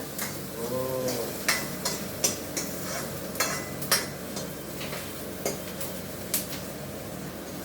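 Tomatoes frying in a pan for chicken gravy as a ladle stirs them, with a steady low sizzle and repeated light scraping clicks of the spoon against the pan, close and fairly quiet.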